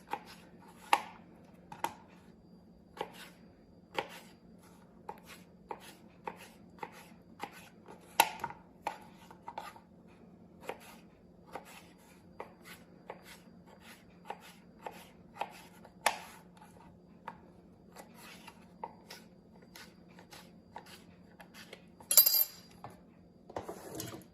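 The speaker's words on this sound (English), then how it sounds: "there's not much that beats a cutting board and a good sharp knife" A sharp knife chops potatoes on a cutting board in steady, evenly spaced knocks, close and crisp over a faint low hum, with a brief clatter near the end and no talking.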